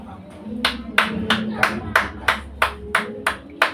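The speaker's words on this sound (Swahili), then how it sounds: "Pigeni Yesu makofi" A church congregation claps hands together in a steady, even rhythm, about ten sharp claps, with a low murmur of voices underneath.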